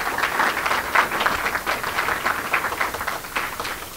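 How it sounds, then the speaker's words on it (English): Applause from an audience at a religious lecture, a steady patter of many hands clapping for about four seconds, fairly soft and even with no talk over it. "let's give Brother Jabril another round of applause"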